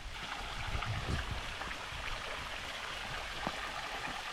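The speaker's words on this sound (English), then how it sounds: "it sounds like there's some water coming off of it" Rushing water pours steadily off a waterfall along a hiking trail through a nature preserve, a continuous broadband wash with faint low thumps, fairly distant and alone.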